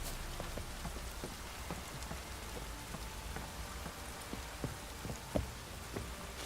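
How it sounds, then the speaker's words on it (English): Steady downpour in the video game The Witcher 3, a dense continuous hiss of rain with scattered drips and patters on surfaces, even in level throughout, with no voices. "Midges were fighting on account of this downpour."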